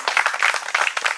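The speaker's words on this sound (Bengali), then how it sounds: "হাততালি।" Applause and clapping from an audience at a prize-giving event in a Bengali drama, steady dense clapping throughout the short burst, fairly loud and close.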